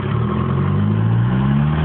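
A Ford Transit van hitched to a trailer revs its engine, giving a loud, close drone whose pitch climbs smoothly as the throttle opens, with no voices over it.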